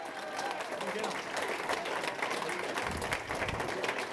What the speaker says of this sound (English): Another round of applause to our awesome candidates.